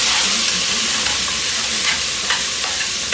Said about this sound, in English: Let's throw the onions in. Give this a little mix.